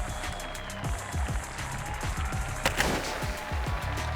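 Shotguns fire at clay targets from an armored vehicle, giving a series of dull, booming reports in quick succession, some farther off, with one sharper crack standing out over steady background rumble.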